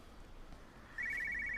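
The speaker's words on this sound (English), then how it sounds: "Shit, my phone." Telephone ringing in the video game Everybody's Gone to the Rapture, a sudden trilling bell that starts partway through and rattles on steadily and fairly loud after a quiet lead-in.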